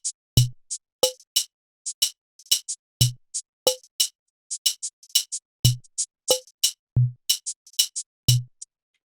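Programmed Afrobeat percussion pattern from FL Studio's FPC, crisp, dry hits of kick-like thumps, clicks and bright shaker-like ticks repeating in a tight, looping groove, with nothing else playing.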